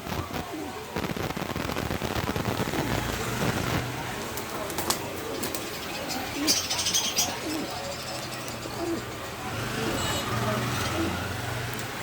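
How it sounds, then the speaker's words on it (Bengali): A male black beauty pigeon in a breeding pair in a loft coos again and again in soft rolling bursts, with sharp clicks early on and a faint background murmur. "এই নটটা ডাকাডাকি করতেছে।"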